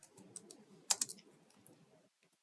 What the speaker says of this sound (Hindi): गूगल पर जाकर हम टाइप करेंगे VS कोड